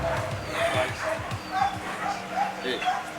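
A military dog in training barks and yips in quick, short bursts close by, with people talking over and between the barks.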